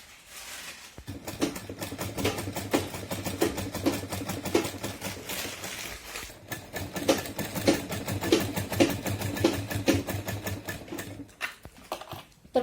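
A sewing machine runs steadily, stitching cord onto a fish-cut blouse sleeve with a rapid, even needle rhythm and one short pause midway, close and clear.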